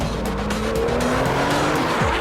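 A Porsche 911 GT2 RS at speed on track, its engine roaring loud and steady throughout with rising pitch sweeps as it climbs through gears, joined by sustained tire squeal, no talking.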